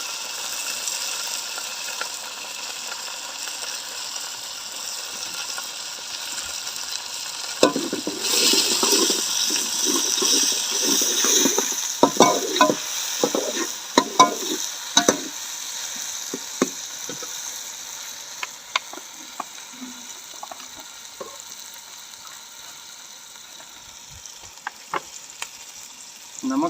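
Tomatoes frying with garlic-ginger paste in a pot for chicken pulao, a steady low sizzle with a louder burst of hissing and scraping stirring strokes partway through, fading back to a gentle simmering fizz.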